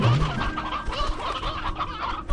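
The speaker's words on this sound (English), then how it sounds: "Okay, yeah, there's a lot of chickens here." Chickens and roosters cluck and murmur in the video game Slime Rancher 2, a close, continuous chorus of short clucks layered over one another with no talking.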